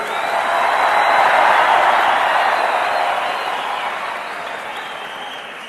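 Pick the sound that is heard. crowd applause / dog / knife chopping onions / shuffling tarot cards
crowd applause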